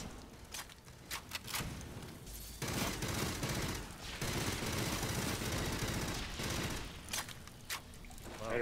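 Sustained automatic gunfire from the sci-fi shooter Aliens: Fireteam Elite, with dense rattling bursts that swell and fade in waves over several seconds and short gaps between the volleys.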